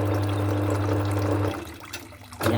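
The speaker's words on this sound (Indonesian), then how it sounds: "minyaknya mengalir sendiri" Coolant oil flows on its own over a running bench drill press, a steady close trickle over a low motor hum that drops away partway through, then briefly returns.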